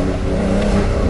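A loud, close Porsche 911 (992) boxer engine revs with a deep throaty growl, sustained and powerful for a brief moment.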